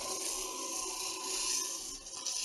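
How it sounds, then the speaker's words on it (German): A turned wooden egg cup being sanded on a spinning lathe with 320-grit paper, giving a steady, continuous rubbing hiss that stays even throughout with no talking. "wir schließen jetzt praktisch die Außenform ab, indem wir es noch ein bisschen nachschleifen"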